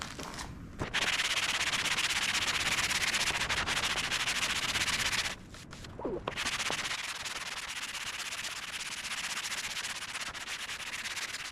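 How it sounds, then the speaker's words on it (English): A dresser with a marble top being sanded by hand with coarse sandpaper, loud close rasping strokes in a continuous run, with a brief pause midway before the scraping resumes. "That is some crispy sandpaper."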